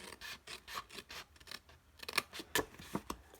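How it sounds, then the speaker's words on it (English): Scissors cutting paper down a score line while making a gift bag, a run of soft snips and rasping slides that grows sharper toward the end, close and quiet with no talking. "And I'm going to cut this one down here."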